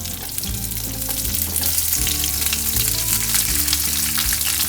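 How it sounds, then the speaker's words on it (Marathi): Onions fry in oil for a mutton masala with a loud, constant sizzle close up. A steady tonal backing, like music, runs underneath. "त्याच्यानंतर पुन्हा 1 चमचा फक्त तेल टाकायचं आहे आणि त्याच्यामध्ये मग कांदे जे आहेत ते कांदे टाकून घ्यायचे"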